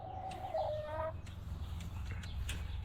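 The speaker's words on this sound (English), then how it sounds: "So I'm over here with Blue, with my little isolated chicken." A single isolated chicken on grass clucks a few times close by, a short burst of calls over a low background hum.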